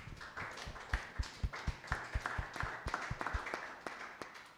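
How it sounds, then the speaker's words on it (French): A church audience claps in praise of the Lord, a steady rhythmic beat of handclaps with a soft crowd wash underneath, fairly faint and even throughout. "Acclamons le Seigneur."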